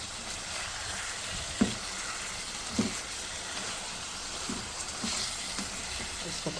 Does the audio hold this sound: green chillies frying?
yes